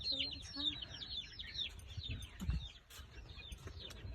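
A rooster, hens and chicks cluck and chirp nearby, with higher peeping calls from the chicks scattered throughout over low background rustling.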